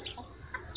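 Chickens cluck briefly and faintly at a rural smallholding in the late afternoon, a short burst of high, thin calls with no talking.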